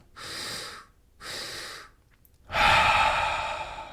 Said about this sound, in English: it's going to be a double inhale through the nose and an exhale through the mouth